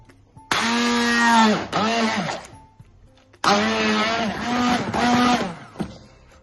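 A blender whirs loudly in two bursts, its motor pitch dipping and rising as it churns thick chicken liver pâté with butter, with a short quiet gap between.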